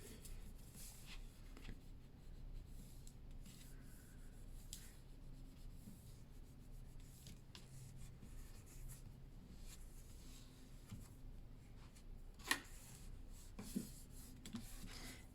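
Paper pages for a scrapbook are burnished by hand, producing soft, steady rubbing and scratching strokes at close range, quiet and continuous with a few faint taps.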